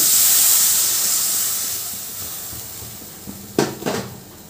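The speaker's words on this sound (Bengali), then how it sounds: "এরপর আমি দিয়ে দিচ্ছি জল।" Water poured into a hot pan of fish curry with tangra fish, brinjal and potato sizzles in a loud hiss that slowly fades, followed by a few sharp clinks of utensils against the pan.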